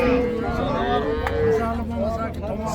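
Cattle lowing at a busy Uzbek livestock bazaar, with several drawn-out moos rising and falling over a steady crowd murmur and faint background chatter.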